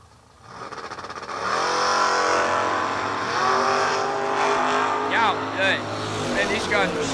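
Drag racing cars launch hard down the strip at King of the Shore, loud engines roaring and climbing in pitch for several seconds while an announcer talks over them.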